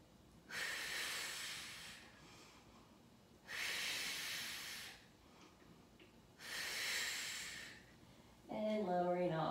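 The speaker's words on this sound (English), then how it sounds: "breathe into my side of my lungs, exhale it all out" Deep breathing during a Pilates mat workout: three long, airy breaths rise and fade at an even pace, close to the microphone, before a voice cuts in at the end.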